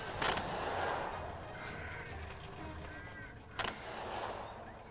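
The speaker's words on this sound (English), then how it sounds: "Now we get return fire." Distant gunfire crackles in the hex-based squad tactics game Second Front, with two or three sharp cracks standing out over a low, steady background rumble.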